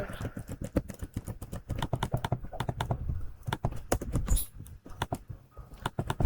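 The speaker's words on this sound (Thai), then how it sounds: "เสียงคีย์บอร์ดดังไหมคนดู น่าจะดังแหละ" Rapid, close-up clacking of a computer keyboard being typed on, keys struck in quick irregular bursts throughout.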